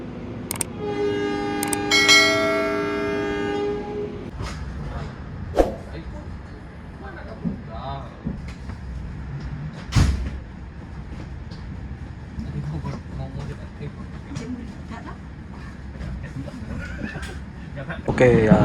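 The Sancaka Utara passenger train sounds a long horn blast, then rolls along the rails with a low rumble and scattered clicks and knocks. Distant voices can be heard faintly.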